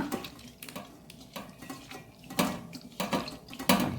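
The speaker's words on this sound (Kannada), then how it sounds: "ಇಲ್ಲಿ ಒಂದು ಸ್ವಲ್ಪ ನೀರನ್ನು ಹಾಕ್ಕೊಂಡು ಇದರಲ್ಲಿ ಹುಳಿಯನ್ನು ಕಿವಿಚಿಕೊಳ್ಳೋಣ" Water is poured over soaked tamarind in a bowl, with close splashing and trickling in uneven bursts and a few light clinks of a container, and no voices.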